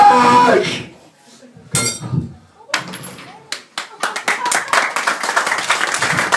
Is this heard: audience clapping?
yes